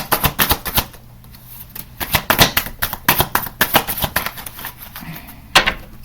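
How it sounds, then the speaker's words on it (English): Playing cards are shuffled nearby, producing bursts of rapid riffling clicks and snaps that come in uneven clusters with short pauses between. "I don't know what's going on with me trying to shuffle these cards"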